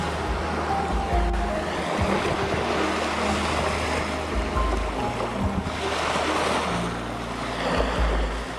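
Waves rolling in at a beach, a steady, close surf wash with wind noise over the microphone, continuous and fairly loud with no talking.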